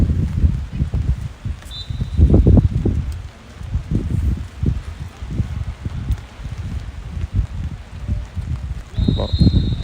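Gusty wind buffets the microphone at an outdoor soccer game in Utica, NY, a continuous low rumble with repeated stronger gusts and a brief faint high tone now and then.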